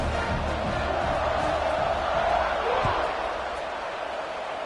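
A college football stadium crowd roars steadily before a fourth-quarter kickoff, a dense, continuous wash of cheering with scattered whoops and a faint thud, heard from within the stands.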